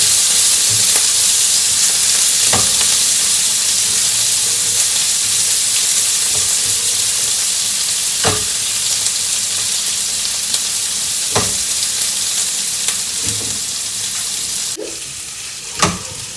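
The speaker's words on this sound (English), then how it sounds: "Going to add in a sliced onion. And we are going to fry really well." Sliced onion frying in a pan for an Anglo-Indian chicken jalfrezi, a steady loud sizzle throughout with occasional scraping stirs, close and continuous, no voices.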